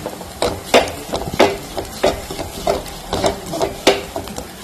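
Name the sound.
stirring fried dried shrimp into spiced masala in a pan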